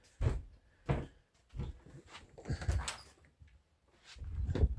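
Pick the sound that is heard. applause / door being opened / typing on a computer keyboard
door being opened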